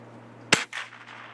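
A Gamo Hornet pellet gun fires a single sharp, loud crack at a mushroom target outdoors, followed by a brief softer impact or echo and then quiet.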